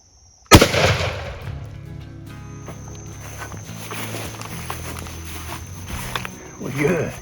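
A single loud, sharp shotgun blast during a Florida turkey hunt, close and sudden, followed by a lingering rumble and outdoor ambience with voices speaking.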